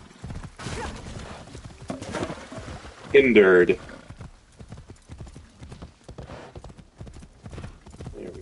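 Horse hooves clip-clop steadily in Assassin's Creed Shadows as the horse rides out of town, with a brief louder burst midway and game sounds underneath, beneath intermittent talk from a player.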